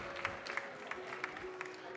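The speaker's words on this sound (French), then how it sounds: "Allez, on l'encourage, on l'applaudit bien fort," Audience clapping at a barista competition in France, a moderate patter of hands with scattered sharper claps, heard over a steady hum from the room.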